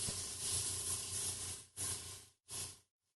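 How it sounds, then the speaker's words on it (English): Airbrush spraying paint as a test, a soft steady hiss of air and paint in one long burst followed by two shorter bursts, close and quiet, with no talking. "Now I just want to test our color and make sure that my airbrush is working correctly."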